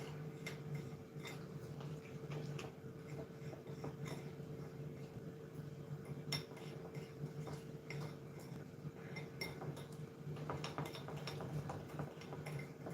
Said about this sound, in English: And then we just stir it in.